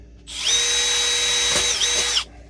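A power drill bores a hole in a crawlspace, its motor whining at a steady high pitch for about two seconds with a slight dip as the bit bites, close and loud, then stops cleanly.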